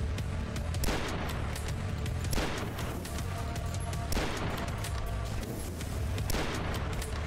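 A hunting rifle in the game DUSK fires repeated loud shots, a few regularly spaced heavy blasts over a steady din of other combat noise.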